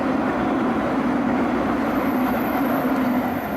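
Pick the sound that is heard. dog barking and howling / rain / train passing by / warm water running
train passing by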